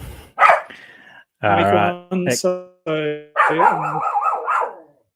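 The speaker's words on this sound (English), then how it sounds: "Apologies for the dog barking in the background." A dog barks and yips in a few short bursts behind a voice, which speaks briefly between the barks.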